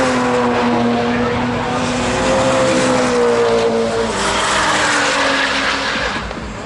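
A Nissan GT-R R35 at Tunerfest gives a brief tire squeal over a steady engine drone and crowd noise, the squeal rising and sliding in pitch before fading as the car passes.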